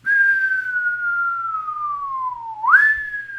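A single tone slowly glides downward in pitch, then sweeps sharply back up, like one cycle of a wailing siren, clear and alone.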